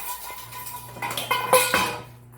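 A plate is picked up and handled, giving a few bright clinks and a ringing tap of dishware close by over a low room hum, lasting only a couple of seconds.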